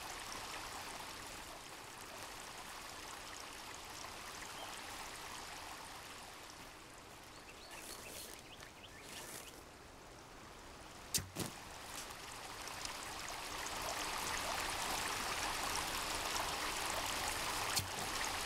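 Steady flowing stream water in the survival game Sons of the Forest, a continuous broadband rush that holds level throughout, with a brief sharp click near the middle.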